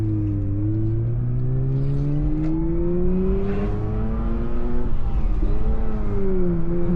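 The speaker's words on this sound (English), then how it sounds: "I just had to enjoy the engine there, the rotary engine." Mazda RX-8 rotary engine revving, a buzzy engine note climbing in pitch with steady rising harmonics, close and fairly loud, then dipping and climbing again near the end, with no talk over it.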